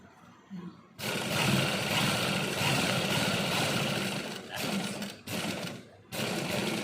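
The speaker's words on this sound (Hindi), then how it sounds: "अब इसी निशान से के ऊपर से बिल्कुल हम स्टिचिंग करते हैं।" A sewing machine stitches a simple shirt along a marked line, running in a loud, steady whir for several seconds, then pausing briefly twice before starting again.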